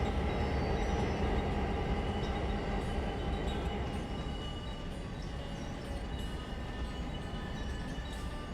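A locomotive rumbles along in a railroad video game, a dense continuous roar with faint rhythmic clatter, steady and loud for the whole stretch with no talking.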